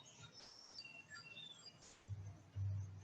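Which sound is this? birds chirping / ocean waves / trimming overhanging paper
birds chirping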